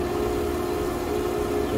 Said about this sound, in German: also ein Traktor.